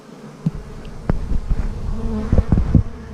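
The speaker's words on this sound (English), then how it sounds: "these bees are just working 100 miles an hour here" Honeybees at a busy hive bringing in bright orange pollen hum as a close, constant drone, with louder passing buzzes and small knocks rising and falling.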